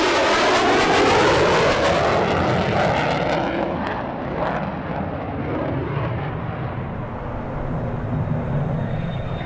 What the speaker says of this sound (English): during this fast pass, the aircraft is travelling transonic, creating an area of low pressure that completely encircles the fuselage